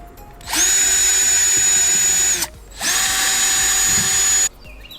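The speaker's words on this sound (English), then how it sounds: "I pre-drilled the holes in the table" A power drill whines at high speed while drilling holes into a table, in two long bursts of about two seconds each, separated by a brief pause.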